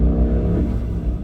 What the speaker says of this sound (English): Motorcycles are driving next to me and kind of going a little hectic.